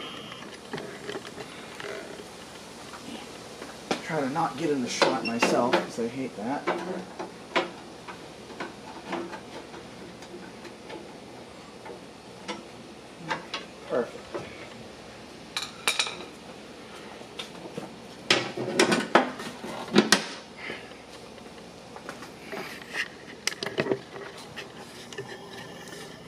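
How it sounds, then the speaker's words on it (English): A screwdriver works on the ballast door of a General Electric C400 CrimeFighter street light, giving sparse metallic ticks, clinks and scrapes in irregular bursts, close by, with a brief spoken remark among them. "let me get a screwdriver here so I can get this ballast door off"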